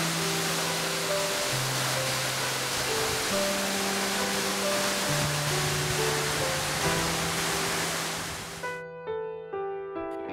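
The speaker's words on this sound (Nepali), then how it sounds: "स्यागेमा विशाल झरना रहेको छ।" A large waterfall at Syange in Lamjung, Nepal, a steady broadband roar of rushing water that continues under soft music before cutting off near the end.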